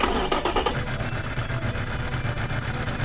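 A modern supercar engine in the Automation car-building game idles roughly, a low, uneven mechanical rumble heard up close at a moderate level with no voices.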